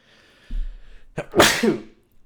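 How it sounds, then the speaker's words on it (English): A single sharp sneeze, preceded by a quick intake of breath, close and loud against a quiet background. "And then I also sneezed, just so you know"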